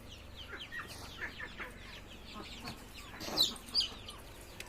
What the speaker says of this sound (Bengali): চারিপাশে শুধু হাঁস আর হাঁস মুরগি